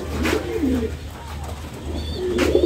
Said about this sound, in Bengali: দেখুন এই যে এই কবুতরটা, এটা তো বাচ্চা। কবুতরগুলো মাঝখানে বসে আছে